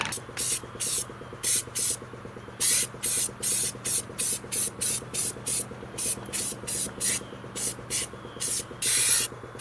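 Spray undercoat hisses in repeated short bursts onto a 1969 Dodge Charger fender, close and steady, each blast separated by brief pauses over a low background hum.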